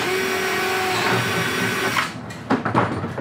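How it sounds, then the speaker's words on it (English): A power drill bores a 3/16 hole through a Yamaha golf cart roof, a steady whining run for about two seconds that stops, followed by a few sharp clunks and handling knocks close by. "we're going to drill a hole somewhere in this area, 3/16"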